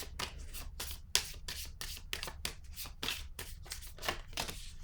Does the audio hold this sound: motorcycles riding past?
no